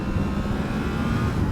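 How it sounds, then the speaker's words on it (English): A Yamaha R1 motorcycle engine drones loud and close in one sustained, steady roar that fills the whole moment. "Oh, an R1 engine."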